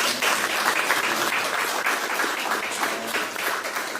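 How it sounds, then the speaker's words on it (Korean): A crowd at an outdoor Democratic Party leadership meeting in Ganghwa, Incheon, breaks into dense, sustained applause that stays loud and even for about four seconds, with no voices over it. "이럴 때 박수 한번 쳐주시기 바랍니다."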